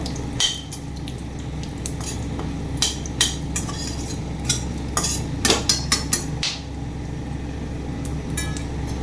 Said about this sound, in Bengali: পাঁচফোড়ন দিয়ে দিলাম। তবে একটু ভালো করে ভেজে নেব।